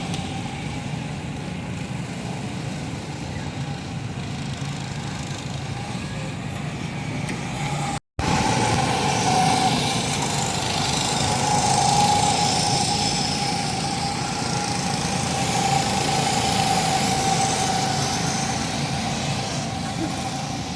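Engines idle steadily on a farm as they warm up before a ride, a continuous loud drone with a momentary dropout partway through.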